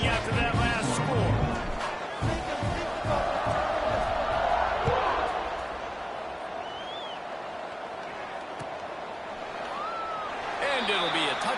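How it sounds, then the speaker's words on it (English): A stadium crowd buzzes and roars steadily in a college football video game, a dense, continuous wash of distant voices under a commentator's talk. "this crowd is buzzing after that last score"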